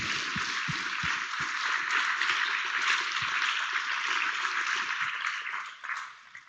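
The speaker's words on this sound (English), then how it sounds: "let's give Derek and Danny one more big round of applause" An audience at a tech meetup talk gives a sustained, steady round of clapping that carries on evenly before tapering off near the end.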